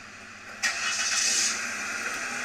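A car engine cranks and catches near 0.6 seconds, then runs steadily with a rough idle from a misfire, a close, continuous broadband drone with no talk.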